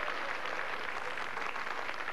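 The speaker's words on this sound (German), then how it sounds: "Standing Ovations im Publikum." Sustained applause from a cabaret audience giving a standing ovation at a 1990 satirical show in Cottbus, dense and steady clapping throughout at even loudness, with no voices standing out.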